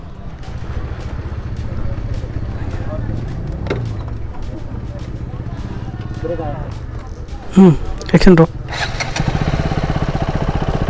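A vehicle engine idles steadily with its cooling fan whirring, a continuous low mechanical drone that holds throughout, while people talk over it and a brief louder burst of voices rises near the end.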